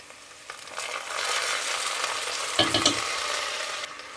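Ginger and garlic hit a pan of frying onions, sizzling loudly and steadily up close, with a brief scrape of stirring partway through.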